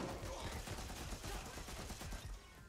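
Shotgun fire in a first-person shooter video game, heard as a dense, steady barrage of rapid, crackling shots that continues without pause for the whole stretch, fairly quiet and even in level.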